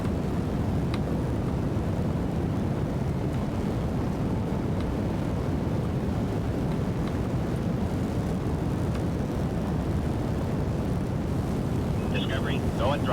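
Rocket engine at throttle up in Kerbal Space Program 2, a continuous loud broadband roar that stays steady throughout, with a brief chirpy sound near the end.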